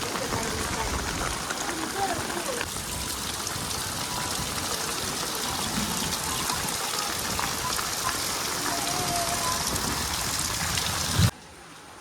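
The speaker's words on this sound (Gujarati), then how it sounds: "ભૂક્કા કાઢી નાખે વરસાદ ચાલુ છે" Heavy rain pours steadily outdoors during a storm, a dense, loud hiss of drops drumming on surfaces that holds constant for about eleven seconds, then cuts off abruptly.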